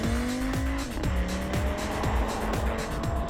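A 2019 Audi RS 3 engine revs up and shifts through gears, loud and continuous, with the pitch rising in steps and a raspy, burbling tone between shifts.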